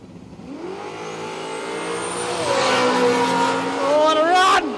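A drag race car launches from the line at Willowbank Raceway, its engine note climbing through loud, sweeping gear changes as it pulls away down the strip, with a rising whine near the end.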